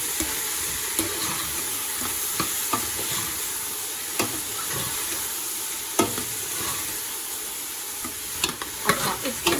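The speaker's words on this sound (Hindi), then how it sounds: "अब इसमें मैं 1 टीस्पून जिंजर गार्लिक पेस्ट शामिल करूँगी, मिक्स करूँगी।" Ginger garlic paste stirred into a frying mixture, a continuous hissing sizzle with occasional spoon scrapes and taps on the pan, close and moderately loud, with no voices.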